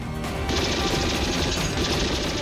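Continuous gunfire in a dramatic scene, a dense, loud rattle of rapid shots with crashing impacts that runs unbroken throughout.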